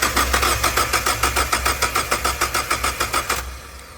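A turbocharged Mazda Miata engine cranks with a steady, rapid rhythmic chug for about three and a half seconds, close and loud, then stops without catching.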